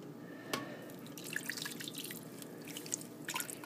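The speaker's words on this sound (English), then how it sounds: "Let's add the water." Water being added to a slow cooker pot roast, heard as faint, scattered drips and small splashes with one sharper splash early on, over a quiet background.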